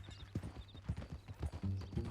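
Horse hooves clip-clopping in the video game Red Dead Redemption, a steady rhythmic trot of close hoofbeats with a short whinny partway through.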